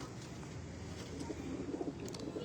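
A few Teddy pigeons, prized breeder birds, coo softly and fairly faintly, a low rolling murmur over light background noise.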